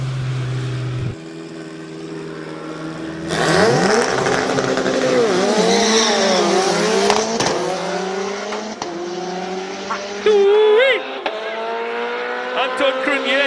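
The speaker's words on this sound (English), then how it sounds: "Anton Cronje in the Subaru WRX STI. That's the one you see taking on the hill right now." A Subaru WRX STI race car climbs a hill at the Speed Classic King of the Mountain event in Cape Town, its engine loud and close, revving hard through rising and falling gear changes.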